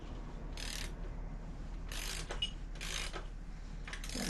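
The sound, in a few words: ratchet loosening top bolt of Sportster 883C shock absorber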